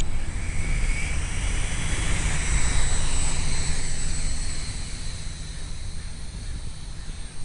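A Blade MQX quadcopter flies outdoors in a light breeze, kept fairly close. Its rotors give a continuous whirring drone that stays steady and moderately loud through the whole clip, with no talk over it.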